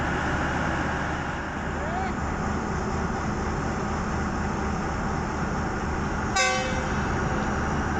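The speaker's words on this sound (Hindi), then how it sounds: "हल्की बारिश में 37 अब फरीद एक्सप्रेस आ रही है जमरानी वाह रेलवे स्टेशन पर।" The 37 Fareed Express pulling into Jamrani Wah railway station in light rain; a steady rumble and hiss of the moving train carries throughout, with a short horn blast near the end.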